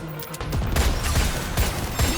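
Gunfire from the NIKKE x Resident Evil video game: a dense, loud burst of rapid shots and bangs, starting after a brief quieter moment and continuing steadily to the end.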